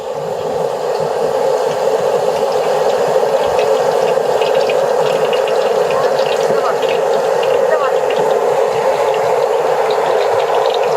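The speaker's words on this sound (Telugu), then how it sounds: "వడకు మనము నూనె పోసుకుంటున్నాము." Oil pours into a frying pan for making vada, a loud, continuous rushing stream heard close up and steady from start to finish.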